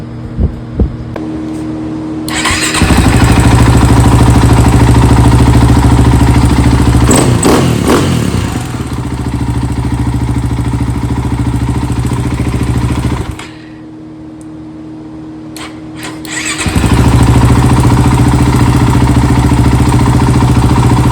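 A rebuilt KTM 450 EXC-R dirt bike engine fires up and runs loud and close, rough and pulsing, with revs rising and falling. It drops back briefly, then roars up again.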